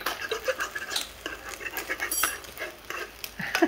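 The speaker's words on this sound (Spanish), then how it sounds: "Aquí le vamos a revolver todo" A spoon clinks and scrapes in a pot while breakfast food is stirred at a country house, giving irregular close metallic taps and rustles over a quiet background.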